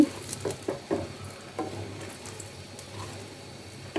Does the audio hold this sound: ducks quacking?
no